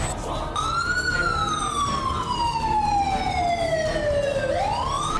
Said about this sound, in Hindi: लश्कर के अड्डों पर सायरन बजने लगे हैं।